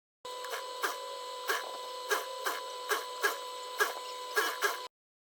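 Sewing machine top stitching hijab fabric: a quiet, steady mechanical whir with rhythmic stitching pulses and a faint hum, running for a few seconds before stopping abruptly.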